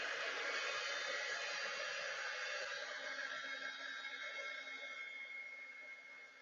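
A heat embossing tool blows steadily at close range during card stamping, a loud continuous whooshing hiss that holds for several seconds, then eases slightly toward the end.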